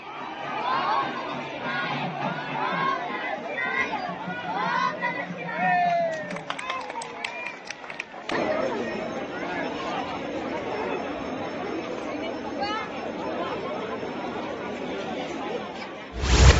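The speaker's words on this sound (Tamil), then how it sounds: "சிவசிவ கோஷம் முழங்க திரளான பக்தர்கள் தேரை வடம் பிடித்து இழுத்து பரவசமடைந்தனர்" A large crowd of temple devotees chants and shouts while pulling a temple chariot by its ropes at a festival. The dense, loud mass of voices carries on throughout, with cheering swells and scattered sharp calls.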